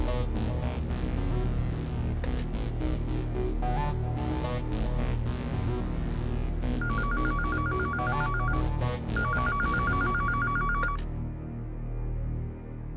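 A telephone rings during a call in a Hindi TV drama, the repeated electronic ring pulses sitting over steady background music, with no voices.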